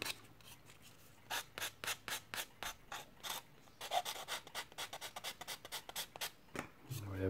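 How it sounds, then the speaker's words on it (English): Rhythmic rasping strokes of sanding on a small plastic model aircraft part, quick back-and-forth scrubs in bursts with short pauses, close and fairly quiet. "just give these just a quick initial sanding"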